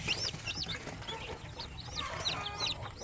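Incubator-raised native chickens cluck and chirp close by, several birds overlapping in short, rising calls over a low, steady background hum.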